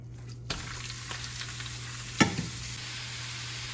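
Beef strips for fajitas sizzle in a pan with a steady, moderate hiss over a low hum. A few light clinks of utensils come through, one louder tap near the middle.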